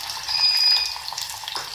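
Chopped onion frying in a pressure cooker with cumin, mustard and onion seeds, a soft steady sizzle with faint crackle that continues for a moment.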